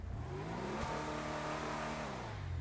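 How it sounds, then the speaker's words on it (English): Vapid Peyote Custom muscle car in GTA 5 Online, blower engine revving up and settling back in one smooth sweep, loud and close with a constant throaty drone throughout. "Love how the belt speed changes as you rev the engine."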